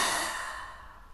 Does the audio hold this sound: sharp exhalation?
yes